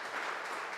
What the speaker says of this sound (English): So a round of applause for CRCC and First Lutheran.